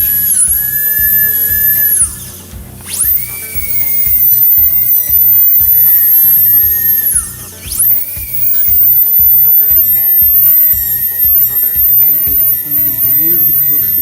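A dental bur whines steadily at a high pitch while it reduces the smooth slope of a non-centric tooth cusp for a metal-free overlay. The loud drilling breaks off twice and restarts, over a rapid pulsing low hum.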